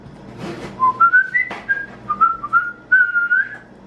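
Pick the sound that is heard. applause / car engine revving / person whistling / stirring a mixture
person whistling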